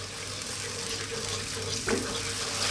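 Cream sauce for smoked salmon pasta simmers and is stirred in a pan over lowered heat, a steady soft bubbling hiss with a brief scrape of the spoon near the end.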